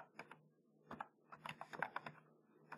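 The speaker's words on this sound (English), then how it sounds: "here I'll just simply go ahead and type ng add Angular" Quick keystrokes on a computer keyboard as a terminal command is entered, irregular clicks in short bursts, close and fairly quiet, with no talking.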